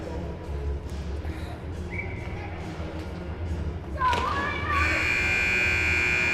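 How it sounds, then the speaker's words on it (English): A sustained electronic period-end buzzer blares and holds steady near the end of an ice hockey game, rising over crowd noise and arena chatter that fill the space beforehand. "The buzzer going to sound as fast as they can drop this puck."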